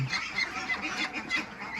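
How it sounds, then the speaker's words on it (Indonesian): A flock of 29-day-old meat ducks raised on a farm quack and honk continuously, a dense, overlapping chorus of many birds close by, with no talk. "ini bebek pedaging saya umur 29 hari"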